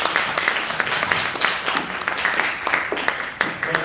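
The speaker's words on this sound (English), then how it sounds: "Another warm round of applause for Christopher" Audience applause at a cancer screening and prevention forum, a dense, steady burst of many hands clapping close by, filling the whole moment with no break.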